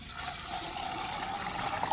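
Water being drawn from a farm well with little water left in it, a steady hissing rush of flowing water, fairly faint and continuous throughout, with no talk.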